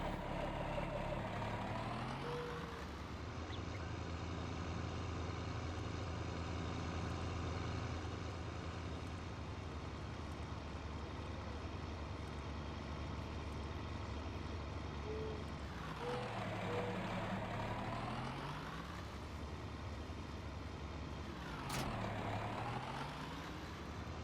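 A 4440 tractor in Farming Simulator 19 drones with a steady, loud diesel engine rumble while pulling a load. Revs dip and rise with gear changes twice, and the engine runs continuously with no talk over it.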